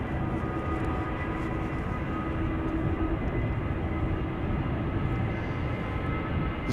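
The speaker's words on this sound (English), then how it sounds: "This is KLM flight 1031 going to Manchester, 737-900." A KLM Boeing 737-900 jet at Schiphol Airport bound for Manchester, a continuous engine rumble with a faint steady whine, even in level throughout and with no voices.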